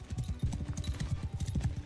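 A horse in Mount and Blade II: Bannerlord gallops in a rapid, steady clip-clop of hooves, close and continuous for about two seconds.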